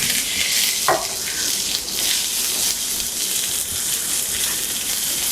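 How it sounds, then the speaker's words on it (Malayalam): Curry leaves sizzle in hot sunflower oil with mustard seeds, a loud, bright crackle of frying that flares as the leaves hit the pan and then settles into a steady hiss, close up and free of talk. "ഇനി അടുത്തായിട്ട് നമ്മൾ കറിവേപ്പില ചേർത്തിരിക്കുന്നു."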